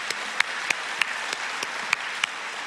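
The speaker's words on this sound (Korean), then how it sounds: "우리 하나님 앞에 영광의 박수 올려드리겠습니다" Sparse, light clapping from a small church congregation, a few distinct claps standing out over a soft continuous patter.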